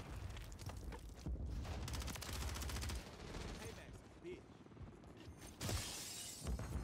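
Rapid gunfire in the video game Call of Duty MW3 during a domination match, dense, loud bursts of automatic shots with sharp cracks and impacts, continuing almost throughout with brief lulls and a final heavy burst.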